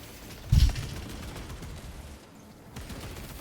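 Gunfire in Warhammer 40K Space Marine 2: one heavy, close blast of shots stands out early, followed by lighter scattered shots and low battle rumble.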